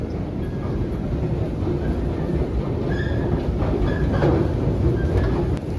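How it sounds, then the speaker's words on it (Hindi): An Istanbul metro train runs underground, a steady loud rumble of rails and wheels with faint clickety-clack and a brief squeal, continuous throughout with no talk. "ये ट्रेन जा रही है अब इस टाइम।"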